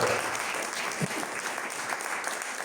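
Steady applause from a church congregation during a service, a dense even patter of clapping hands that carries through without a break.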